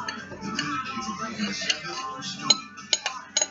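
Dishes and utensils clink softly in a home kitchen as cheesecake is moved into a pan, with a few sharper metallic taps toward the end over a low background.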